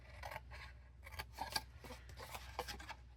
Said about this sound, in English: We're going to cut straight up,